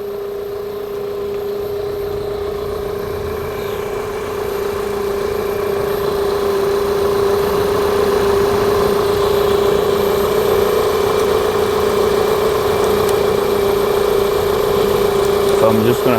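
A Toyota Highlander engine running at idle during charging system testing, giving a steady, even hum with a constant drone that holds unchanged from start to finish without revving.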